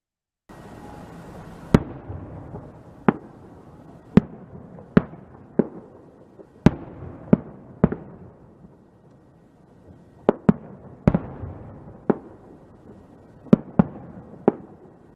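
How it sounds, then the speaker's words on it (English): Fireworks explode in a string of sharp, loud cracks and pops, around twenty bursts spaced irregularly over a quiet rumbling background, with no voices. "This little explosion of fireworks is for all those who got some writing in today."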